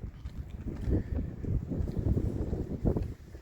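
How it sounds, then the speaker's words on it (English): High wind blows through a campsite in the Sonoran Desert at White Tank Mountain Regional Park, buffeting the microphone in uneven low gusts that rise and fall over a few seconds, with no speech. "Yep, this windy day, this camping trip made me finally decide I am going to get a soft topper for camping."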